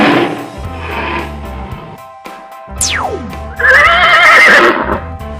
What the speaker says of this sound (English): Who goes neigh neigh?